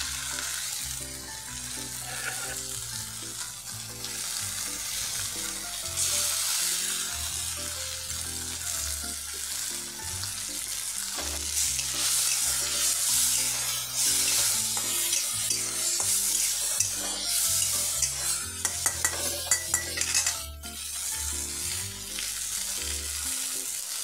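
Ground bottle gourd being stir-fried with sautéed onions for a khima, with a steady close sizzle and stirring scrapes throughout over soft background music.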